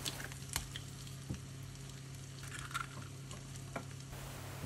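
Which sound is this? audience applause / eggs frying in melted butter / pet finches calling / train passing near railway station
eggs frying in melted butter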